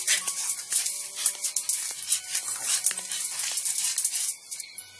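A dog making repeated short yips and whimpering barks over a steady high hiss, continuous for several seconds at moderate volume.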